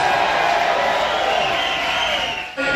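Concert crowd at a live rock show applauding and cheering for the band, a steady dense roar of clapping and whoops that drops off abruptly near the end.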